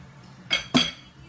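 A utensil clinks twice against a pan while scallions are mixed in, two short close metallic taps in quick succession over a quiet kitchen background.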